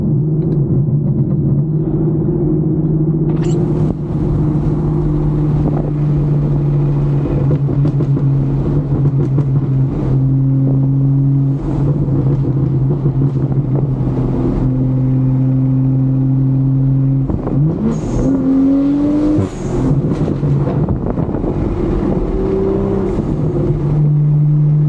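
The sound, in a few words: car engine overrun on downhill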